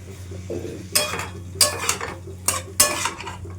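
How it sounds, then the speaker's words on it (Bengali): Paneer is gently stirred with spices in a frying pan, with several distinct scraping and clinking utensil strokes over a low sizzle, close and fairly loud, with no speech. "হালকা হাতে একটু নাড়াচাড়া করি"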